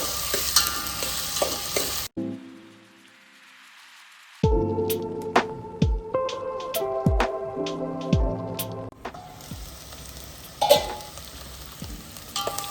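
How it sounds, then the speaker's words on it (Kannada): Onion and green chili paste fries in a pan, a hissing sizzle that drops to near silence, then gives way to sharp utensil clinks and stirring before the sizzle returns. "ಈಗ ಸ್ವಲ್ಪ ಫ್ರೈ ಮಾಡೋಣ, 1-2 ಮಿನಿಟ್ಸು."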